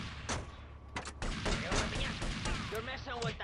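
Gunfire in Grand Theft Auto: Vice City, The Definitive Edition on PS5: a burst of sharp shots followed by continuing game noise, with no voices heard.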